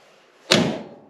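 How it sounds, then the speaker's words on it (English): A single solid car door slam on a used car with new rockers and amateurish bodywork, one sharp close-by thud that fades quickly, with no voices. "those doors sure do close nice"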